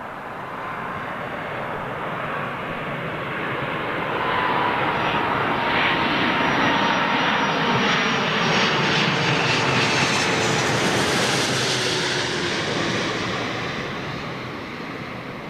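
Airbus A330 airliner landing on Heathrow runway 27L, a loud broad engine roar that swells as it passes close overhead and then slowly fades.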